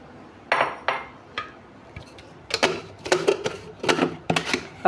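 An electric chopper machine grinds raw chicken in a home kitchen, giving loud bursts of whirring and clattering in irregular pulses, with short pauses between bursts.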